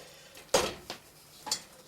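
Parboiled poke greens are stirred and chopped in a frying pan: three separate scraping, clattering bursts of utensil on pan, the first the loudest, with quiet gaps between.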